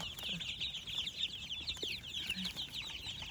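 Small ducklings kept with chickens cheep in a continuous high twittering, faint and close, with light rustling and scattered soft thumps beneath and no speech.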